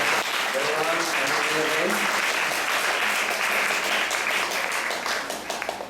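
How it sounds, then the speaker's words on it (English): Dense, sustained applause from a congregation at a Sunday class in an ISKCON temple, loud and even throughout, with voices faintly mixed in before it thins at the end. "let's give a round of applause to Jayanti Bhai"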